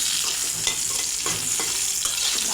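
Pieces of hilsa fish fry in mustard oil with a dense, steady sizzle and occasional light crackles and stirring scrapes, close up and alone.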